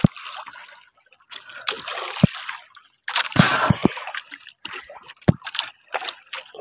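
Water splashes and sloshes in intermittent bursts at sea, with a louder churning stretch midway and scattered knocks between quieter gaps.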